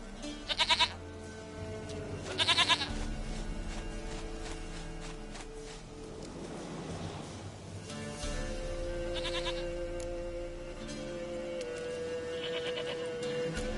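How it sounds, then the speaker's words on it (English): Goat bleating in The Witcher 3, two short loud bleats near the start, then quieter game ambience with soft footsteps and faint background sounds, with no speech. "Goat of mine, dearest, sweetest goat."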